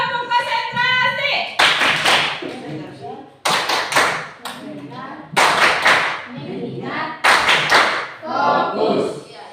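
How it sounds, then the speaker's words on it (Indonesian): A classroom of students performs the concentration clapping chant, with rhythmic bursts of group hand claps separated by short gaps while children's voices chant along. "kita tepuk konsentrasi dulu. Ayo, tepuk konsentrasi."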